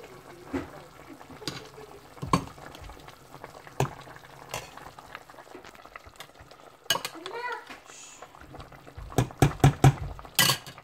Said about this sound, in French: Je reviens à la sauce qui bout très bien